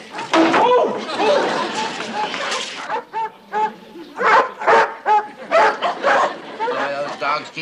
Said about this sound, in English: Those dogs keep zeroing in on us.